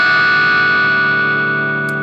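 Electric guitar strings above the nut struck together, giving a harp-like shimmer of ringing tones through effects, sustained and slowly fading over two seconds with no talking.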